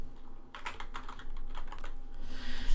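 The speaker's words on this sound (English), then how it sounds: "I'm just going to type in vampire." Typing on a computer keyboard, a quick flurry of close, crisp key clicks in uneven bursts with brief pauses, heard alone with no talking.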